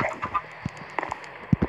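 Short, scattered clucks from Minecraft chickens, a few soft and a couple sharper, with gaps between them and no talking.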